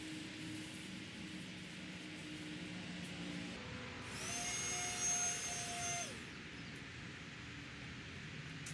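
A vacuum cleaner whirs in the open engine bay of a Mustang, sucking out leaves, with a louder, rising roar for about two seconds mid-clip before dropping back to a steady hum.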